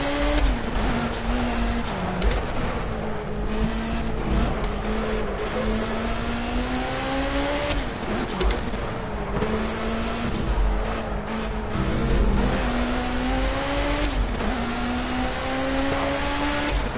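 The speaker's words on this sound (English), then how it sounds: "Already I am liking how this BMW is driving." A BMW race car engine in the racing game Project Cars, revving steadily with rising and falling pitch through gear changes and a few sharper shifts, loud and continuous with no talk over it.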